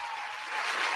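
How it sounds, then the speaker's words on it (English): Brief applause for guests on a podcast-style show, a quick burst of many hands clapping that swells slightly toward the end, heard on its own without speech. "I'm gonna give a round of applause"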